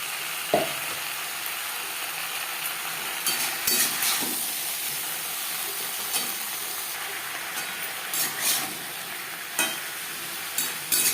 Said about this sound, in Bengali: আলুর সাথে বেগুন বেশ ভালো করে মিক্স করে দেবো